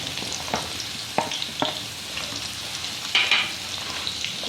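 Pieces of tinda (apple gourd) fry in oil in a kadai over a full flame, giving a bright steady sizzle with occasional stirring scrapes and pops, close by and with no one talking.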